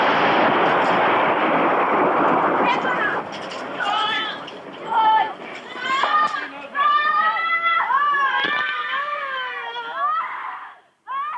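Archive news sound from Sarajevo catches mortar fire striking a child's funeral. A loud, roaring blast fills the first seconds, then people scream, wail and cry out nearby amid the chaos.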